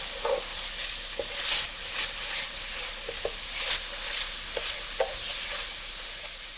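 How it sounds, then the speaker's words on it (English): Ground beef browns in a pan, giving a steady close sizzle broken by sharp scraping ticks from stirring. "you want to actually brown this meat"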